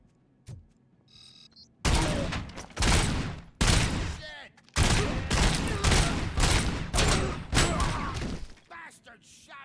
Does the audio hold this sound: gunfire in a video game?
yes